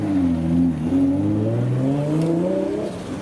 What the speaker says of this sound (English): Subaru is making some sounds.